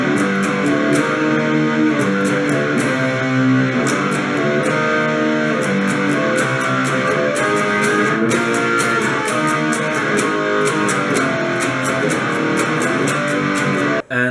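Distorted electric guitar plays the opening chord riff of a song, loud and sustained, with sharp rhythmic strums running throughout and no talking.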